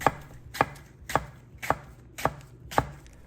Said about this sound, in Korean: 포도와 마찬가지로 얇은 크기로 사과를 썰어주시고요.